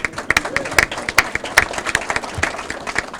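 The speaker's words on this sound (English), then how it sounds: "You can clap for the board members." An audience at a board of directors meeting gives scattered, uneven hand claps that rise and fall in short bursts over a few seconds.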